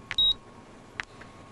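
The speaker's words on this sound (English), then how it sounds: "At 12:33, my terminal beeped for the 100th time." Computer terminal beeps: a short high electronic beep, a brief tone around a quarter second long, then a fainter blip later, clear against a quiet background.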